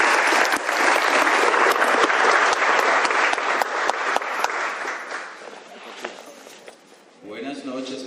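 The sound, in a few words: applause for the parish priest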